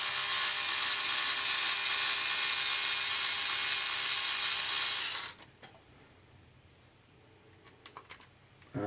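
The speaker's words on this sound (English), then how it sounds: "with this electric driver" A steady, loud electric driver whirs continuously while running screws into a graphite center differential top plate on a Hobao Hyper nitro RC car, then stops abruptly, leaving a few faint clicks and handling taps.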